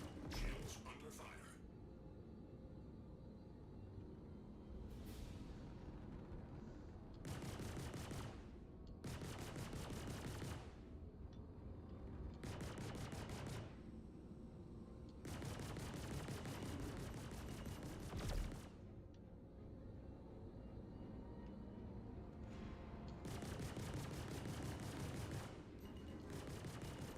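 Gunfire striking a ship's shields in a space video game, coming as repeated long automatic bursts with short pauses between them, heard faintly and steadily throughout.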